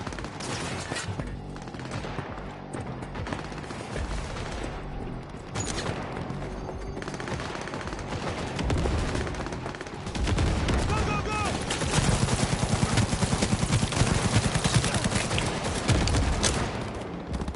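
Sustained gunfire rattles through a firefight in Cyberpunk 2077 on PS5, dense bursts and volleys running continuously and growing heavier toward the end, with talk faintly mixed in.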